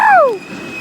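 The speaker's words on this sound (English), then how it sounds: "That awesome, nice Nathan K5 LA horn there. Nice horn show." A Metra No.414 commuter train's Nathan K5LA horn sounds one short, loud blast that bends downward in pitch and then fades, leaving a thin lingering tone.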